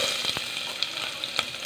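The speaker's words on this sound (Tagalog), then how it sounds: "gisahin mo lang natin yung sibuyas, luya, tsaka bawang" Onion, ginger and garlic sauté in hot oil for a chicken dish, giving a bright, steady sizzle close by with a few quick stirring clicks. There is no talking.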